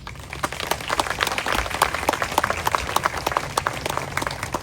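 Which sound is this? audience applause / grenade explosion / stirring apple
audience applause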